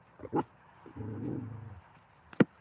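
A dog gives a low, rumbling growl lasting under a second, with brief sharper vocal bursts just before and after; fairly quiet overall, with no talking.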